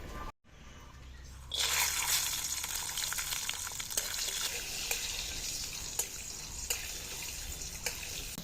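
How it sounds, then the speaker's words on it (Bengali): Raw peanuts drop into hot mustard oil in a wok over a new clay stove, a brief quiet pause and then a loud steady sizzle with sharp crackles and pops. "এবার তেলে ভেজে নেব তেল গরম হয়ে গেছে"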